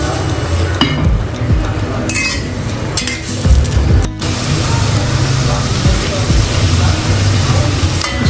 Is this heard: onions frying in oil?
yes